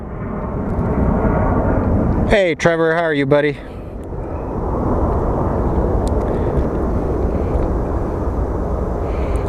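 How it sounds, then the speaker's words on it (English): A little CRJ jet rolls down the runway at Phoenix Sky Harbor International Airport on departure to Long Beach, its steady, loud engine roar filling the whole stretch while someone briefly speaks over it. "So here's our Long Beach plane rolling."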